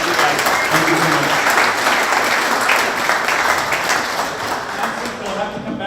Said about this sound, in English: Round of applause for Zach.